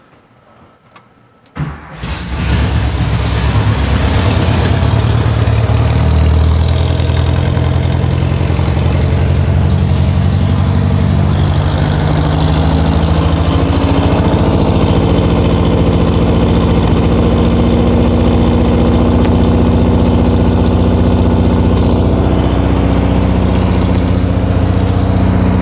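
A 1973 VW Thing engine, parked for decades and pumping oil out a tube, cranks briefly then catches and runs at a loud, steady, rough idle close by.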